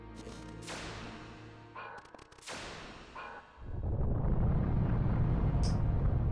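A monster's fire breath attack in the video game Vagrant Story: a sustained, loud roaring rush of flame surges in partway through and holds steady to the end, after several sharp whooshing game effects.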